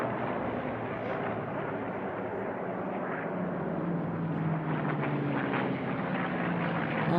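Mustang racing airplanes fly at the Reno air races with a continuous, droning piston-engine roar that holds steady at a moderate distance and swells slightly toward the end, with no talking.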